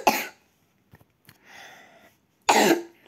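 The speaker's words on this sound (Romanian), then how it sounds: "Scoate-mă că tușesc, dar sunt răcit." Harsh coughing from someone with a cold during a Roblox gaming session: two loud, close bursts at start and end with a softer raspy throat sound between.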